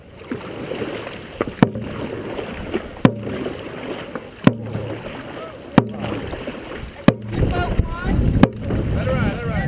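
Dragon boat race start with paddles striking water in a steady repeated rhythm, sharp regular strokes about every 1.4 seconds over wind and background voices at an outdoor race.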